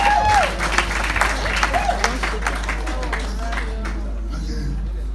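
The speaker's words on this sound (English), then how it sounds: "I thought you would clap very well." Wedding guests applaud at a white wedding ceremony after the couple's vows, a burst of clapping that swells at the start and then continues steadily, with a crowd murmuring and a speaking voice mixed in.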